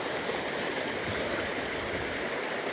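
A deep, waist-high river on a UK wild camping trip flows with a steady, dense rushing wash that stays even throughout, with no voices over it.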